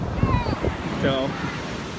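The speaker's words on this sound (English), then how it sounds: "the tide is definitely coming up right now" Surf rolls in at a Brooklyn beach during a blizzard as the tide comes up, a loud rushing wash mixed with strong wind buffeting the microphone, with brief voices in the background.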